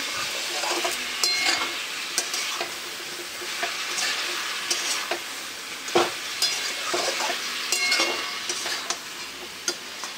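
Cauliflower sautéing in a pan sizzles continuously, with frequent stirring scrapes and light clinks of a spatula against metal.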